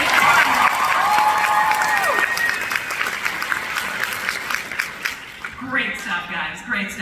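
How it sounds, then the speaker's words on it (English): A convention crowd at a Stranger Things cast panel applauds the performers, loud dense clapping and cheering that thins out toward the end as a host talks over it. "Give them another round of applause"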